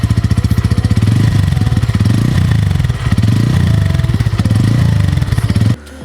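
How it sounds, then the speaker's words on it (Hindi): A Bajaj Pulsar N150 motorcycle engine runs steadily close by, its exhaust giving a loud, even, pulsing thrum for several seconds before it drops away abruptly near the end. "तो अभी ना मैं सुनाता हूँ गाड़ी का भाई आवाज़"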